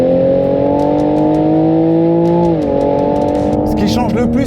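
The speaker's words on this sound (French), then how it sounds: "la nouvelle Supra, elle donne quoi sur circuit?" The new Toyota Supra sports car on a race circuit: a loud, close engine holds a steady high-revving tone, then drops abruptly in pitch as it shifts or lifts off, with a voice speaking over it near the end.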